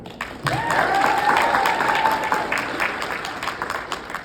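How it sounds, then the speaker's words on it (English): Broad, steady applause from an audience at a youth entrepreneurship summit fills the clip, with a tonal sweep riding over the clapping and some crowd noise. "let's hear it for Dylan."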